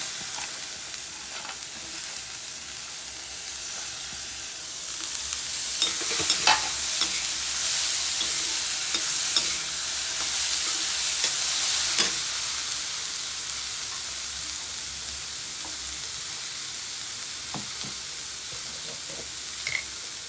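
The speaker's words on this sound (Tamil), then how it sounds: "கடுகு உளுத்தம்பருப்பு காஞ்ச மிளகாய் வெங்காயம் எல்லாத்தையும் வதக்கிட்டு இந்த வேக வச்ச கொத்தவரங்காயை போட்டு" Mustard seeds, urad dal, dried chilli and onion sauté in hot oil for a cluster beans stir-fry, giving a steady, soft sizzle and hiss. Occasional light stirring clicks sound over a quiet kitchen background.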